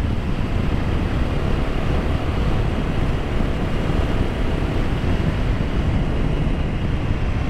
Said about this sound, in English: I'm winding this back now and I can really feel the urgency in the engine.